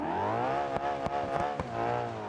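A car engine in the BeamNG.drive driving game revs steadily and loudly, a harmonic drone with the pitch rising and falling and a few brief gear-shift dips.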